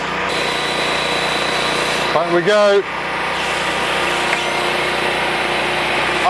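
A small engine runs at a steady drone, briefly revving up in a rising whine before settling back, while a voice speaks over it.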